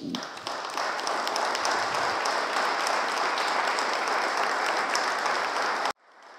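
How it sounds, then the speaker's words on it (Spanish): At a catalogue presentation for the Retroverso exhibition, the audience gives a steady, even round of applause that holds for about six seconds and then cuts off sharply. "Un aplauso para todos."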